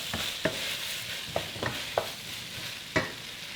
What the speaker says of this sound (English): And once it's in, just continue to stir fry.